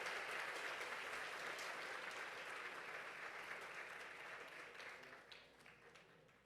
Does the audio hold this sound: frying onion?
no